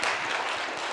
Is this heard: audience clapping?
yes